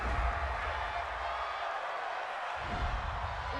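A football stadium crowd roars in sustained disapproval after a penalty flag at a Cowboys–Jaguars game, a loud, steady wash of massed voices that swells again near the end, with an announcer talking over it.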